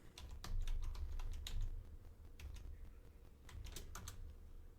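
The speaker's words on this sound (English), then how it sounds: "Oh, I need to start typing chat first." Quiet clicking of a computer keyboard as a chat message is typed in Minetest, two short bursts of uneven keystrokes separated by a brief pause.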